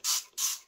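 A handheld spray bottle gives three quick squirts indoors, each a short close hissing burst separated by brief pauses.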